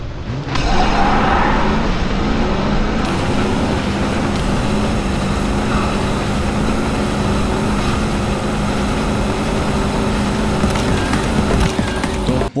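Porsche and Ford Raptor engines roar in a drag race in a car simulator game, a loud continuous drone that rises at the launch and holds steady throughout, with no talk.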